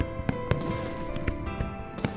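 Fireworks at a special performance in the Love and Deepspace video game: a handful of sharp, distant pops and crackles scattered irregularly over a sustained, soft musical backdrop.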